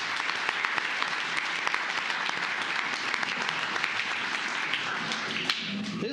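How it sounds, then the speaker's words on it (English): Dense, steady applause from a crowd in a county commissioners court meeting, sustained and fairly close for several seconds with no one speaking. "this even deserves a bigger round of applause"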